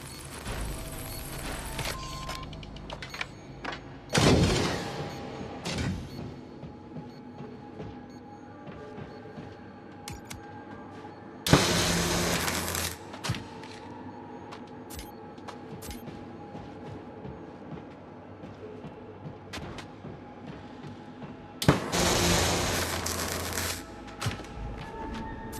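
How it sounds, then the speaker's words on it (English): In the Alien: Rogue Incursion game, loud bursts that fit thrown grenades going off sound three times at wide intervals. Each is a sharp, full-bodied blast that rumbles away over a second or two, with quieter mechanical clatter and game ambience between them. "I did not mean to throw that grenade."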